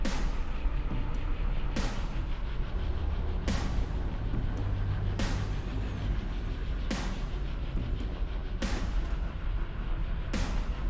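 Tank cannon fire in Halo 2 Anniversary, heavy booming shots repeating at a steady pace about every one and a half to two seconds over a constant low engine rumble, loud and close with no talking.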